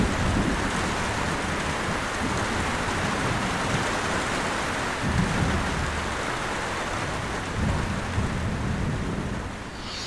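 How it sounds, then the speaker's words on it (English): Heavy rain pounds steadily against the side of a tent in the woods during a thunderstorm, a dense, constant roar with low rumbles of thunder rolling through beneath it, close and loud. "The rain was just pounding the side of this tent, and the thunder was echoing so loud through these trees."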